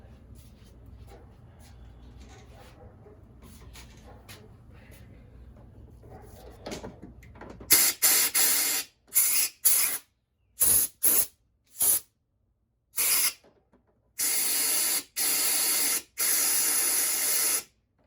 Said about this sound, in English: use some compressed air to blow that thing out